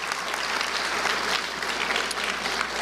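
Audience applause at a Let's Move rally in Jackson, Mississippi, honoring a school official; dense, even clapping from a crowd lasts a few seconds, moderately loud and without voices over it.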